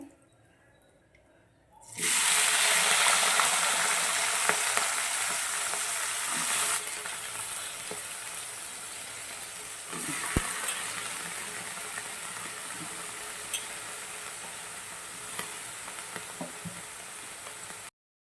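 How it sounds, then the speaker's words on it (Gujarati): Ivy gourd and potato pieces drop into hot oil seasoned with cumin and asafoetida, setting off a sudden loud, steady sizzle that keeps frying close up with small stirring clinks and no talking. "આપણે જે ગિલોડા અને બટાકા લીધા હતા તે આપણે તેમાં નાખી દેવાના છે"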